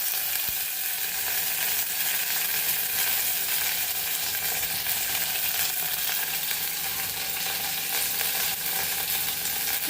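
Onion frying in hot oil with mustard seeds and curry leaves for a sambar, a loud, continuous close-up sizzle and crackle that stays steady throughout with no voices.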